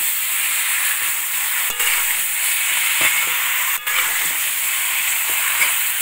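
Chicken curry frying in a pan over a wood-fired stove, a steady broadband sizzle with faint stirring scrapes and a couple of brief clinks, close and continuous without speech.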